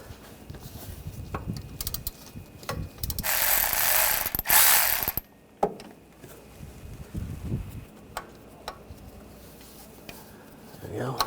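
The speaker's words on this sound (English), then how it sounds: "I'm going to take this bolt out." A ratchet with an E14 socket backs out the belt tensioner bolt on a 2013-2022 Buick Encore 1.4L, with bursts of close clicking pawl sounds, a loud hissing stretch, and scattered metallic knocks and handling noises.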